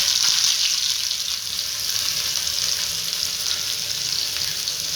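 Chopped onions, green chillies and curry leaves frying in hot oil with mustard seeds and cumin, a steady loud sizzle throughout with faint stirring, no voices.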